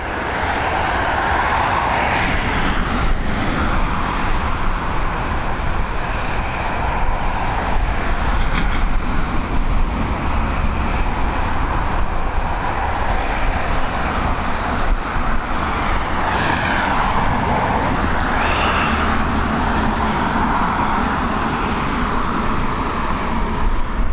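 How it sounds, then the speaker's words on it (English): A Boeing 737 lands at Dublin Airport on runway 28L in the evening with a steady, loud, broad jet roar that holds throughout without pause. "Here we go, FR119, this Boeing 737 coming in from London Gatwick"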